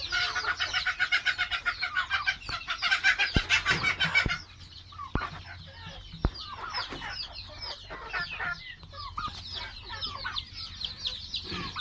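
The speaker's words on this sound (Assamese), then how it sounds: "এইটো মোৰ ফাৰ্ম, এইবিলাক লোকেল মুৰ্গীৰ পোৱালি" Local chickens and chicks on a farm in Rangia, Assam, cluck and peep continuously close by, with a dense burst of rapid clucking early on and scattered cheeping afterward.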